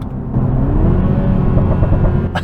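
A 2022 Toyota Supra with the 2.0 four-cylinder rumbles through its exhaust on a paddle-shift downshift, a low steady drone with a faint burbling gurgle toward the end, heard from inside the car.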